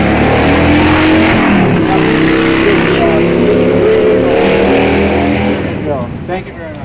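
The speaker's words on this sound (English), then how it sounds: "Drowned out by a motorcycle." A motorcycle engine roars loud and close, its steady growling drone passing during an outdoor boardwalk opening ceremony, with a voice speaking underneath.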